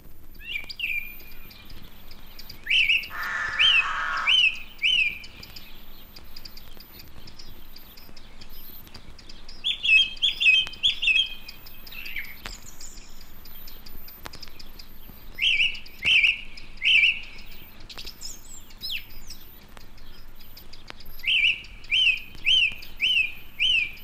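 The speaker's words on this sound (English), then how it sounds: "in an exposed coastal wood, a song thrush sings to the accompaniment of rooks and chiding wren." Repeated clear phrases of song thrush song ring out in an exposed coastal wood, each a short run of repeated notes, with rooks calling and a wren chiding faintly in the background.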